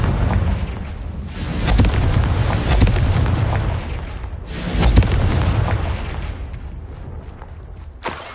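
Confringo blasting spell explosions from Hogwarts Legacy: a series of heavy, booming blasts with rumbling low-end bursts around two, three and five seconds, then a sharp crack near the end, set among dense game effects.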